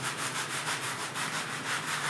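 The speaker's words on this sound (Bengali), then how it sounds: "এই যে বালির মধ্যে চালা হচ্ছে আমাদের বালিটা" Sand being sieved through a mesh for tile-setting mortar, a close, continuous rhythmic scraping hiss that pulses about every quarter second as the sieve is shaken.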